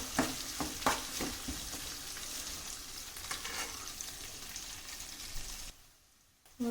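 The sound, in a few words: chopped onions frying in pan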